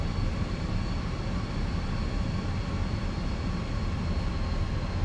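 A Fenix A320 airliner in a flight simulator gives a steady broad engine and airflow roar, constant and fairly loud throughout with no talk.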